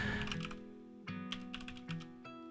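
Computer keyboard typed on while coding, with quiet, close key clicks in uneven bursts over a soft steady hum.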